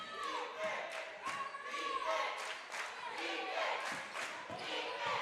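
The McGehee home crowd at a high school girls' 3A state tournament basketball game cheers and claps steadily, with shoe squeaks from the court and a commentator talking over the noise throughout.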